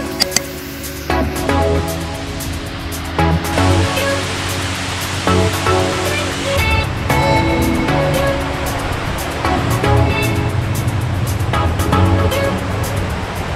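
A garden waterfall beside a building in Houston, Texas, pours about 11 gallons a minute, giving a loud, continuous rushing wash of falling water that stays up close throughout.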